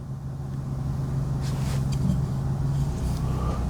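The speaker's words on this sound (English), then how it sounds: "I thought a car was just about to back into me" A car idles and creeps backward close by outdoors, a steady low engine hum with rising rumble and faint rustle, no voices.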